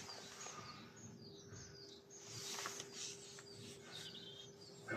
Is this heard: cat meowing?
no